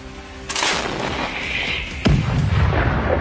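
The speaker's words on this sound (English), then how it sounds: "Precise hit from Ukrainian artillery takes out one more armored vehicle" Ukrainian artillery striking an armored vehicle in a Russian column, two heavy booming blasts about a second and a half apart, distant and rumbling with a noisy tail.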